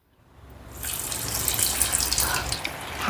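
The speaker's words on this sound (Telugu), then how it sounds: "ఆయిల్ కూడా వేడైంది రండి ఆయిల్లో వేసుకుందాం" A rising, sizzling hiss swells and holds as snack dough balls drop into hot oil and start frying, close and crackly with no talking.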